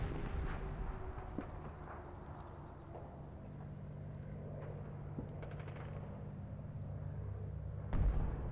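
Artillery interdiction fire in the wargame Combat Mission, set in Normandy hedgerows, lands as faint, distant dull booms every few seconds over a quiet low rumble, with a slightly heavier thump near the end.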